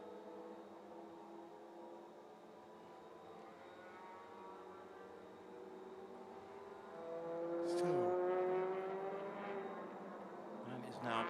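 Touring cars lapping a racing circuit at a championship race in Malaysia, engine drone rising as a car passes close with a pitch sweep, then fading, under continuous commentary.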